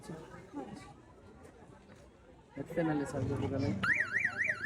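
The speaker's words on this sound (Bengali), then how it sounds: "অ্যাম্বুলেন্সটা একটু বাজান আমার একটু শোনান না ভাই" An auto-rickshaw converted into an ambulance sounds its siren, a warbling electronic wail that starts near the end, loud and close, after a stretch of people chatting and street noise that continues underneath.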